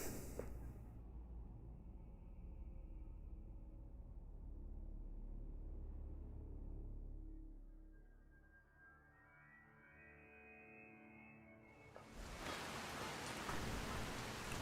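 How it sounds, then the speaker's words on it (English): Steady soft rain falls in the game world of Skyrim, a faint, even hiss that runs throughout, with low ambient tones drifting beneath and a brighter burst of rain near the end. No one talks. "It's rainy though."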